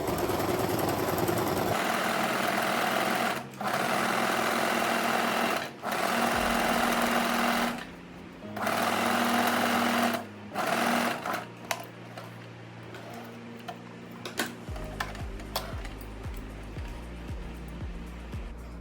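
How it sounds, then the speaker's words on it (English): Home sewing machine running a long stitch length across a gathered empire-waist dress seam, loud steady whirring bursts of several seconds with short pauses, then quieter intermittent handling clicks and rustles toward the end. "stitch from one side to the other side with your machine on a long stitch length"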